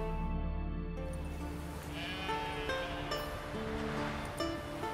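Sheep bleat repeatedly in the video game The Witcher 3 over a steady wash of background noise, with layered calls that are moderately loud and close.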